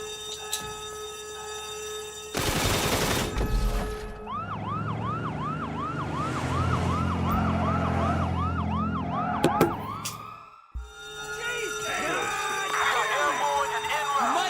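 Police sirens wail and yelp through a chaotic scene in the video game GTA Online, with rising and falling siren sweeps over rumbling engines, sharp bursts and clatter, fairly loud and continuous throughout.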